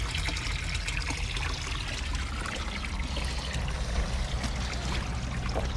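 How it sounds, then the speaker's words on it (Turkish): Water trickling steadily from a mountain spring fountain in a highland village, a continuous soft, even babble with no talking. "Lakır lakır akıyor"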